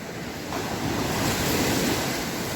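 Sea waves wash up on a beach at Zelenogradsk on the Baltic coast, a steady close rush of surf that swells and hisses over a sandy shore, with some wind buffeting the microphone and no voices.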